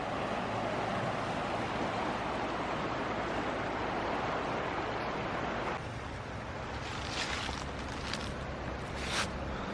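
Mountain river in Georgia running swift and swollen, carrying leaves and debris past the bank; a steady, close broadband rush of water with wind buffeting the microphone throughout, no voices.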